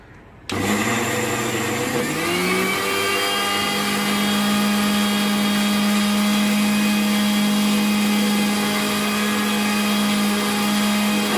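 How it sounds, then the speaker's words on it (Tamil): Electric mixer grinder blending soaked toor dal: the motor kicks in abruptly, rises to speed within a couple of seconds, then holds a loud, steady, droning whine until the end. "துவரம் பருப்புமே நம்மளுக்கு ஊறிடுச்சு இப்போ மிக்சியில் போட்டு அரைச்சி எடுத்துக்கோங்க"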